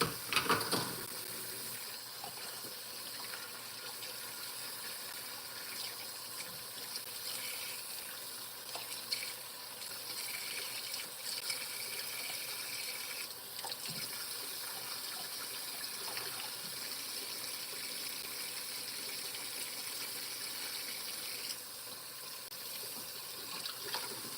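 A kitchen tap runs steadily while a part of a coffee pot is washed with soap and water, giving a continuous hiss and splash with small clinks, fairly quiet and without speech.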